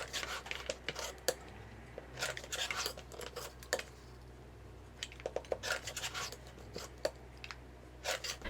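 Scissors trimming the edge of a fabric quilt block: a series of quiet, short snipping and scraping cuts in irregular bursts, close by, with no talking.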